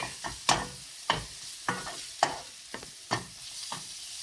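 Masala for muttar paneer sizzling and being stirred in a pan, with a series of sharp scraping, clattering strokes about every half second over a soft frying hiss, close and fairly quiet, with no talking.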